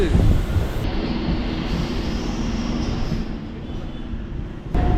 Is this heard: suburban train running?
yes